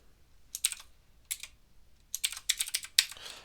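Keystrokes on a computer keyboard while coding, quiet and close, with short irregular bursts of clicking separated by pauses.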